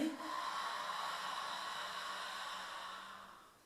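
A long, soft exhaled breath during a standing yoga sun salutation, a breathy hiss that starts with a short push and then fades slowly, close and quiet, with no talking.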